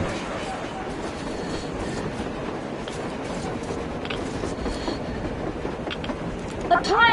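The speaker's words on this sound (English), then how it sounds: "A train! A damn train on the surface!" Train running on the surface in the video game Metro, a dense continuous rumble with rail clatter holding steady throughout, growing slightly louder near the end.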